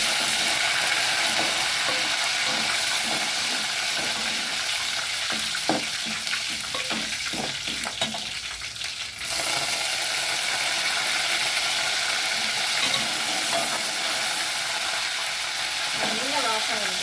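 Green chillies, curry leaves and coriander spluttering in hot oil for kara kozhukattai, a loud close crackling sizzle with a stretch of scraping and stirring in the middle, continuous throughout.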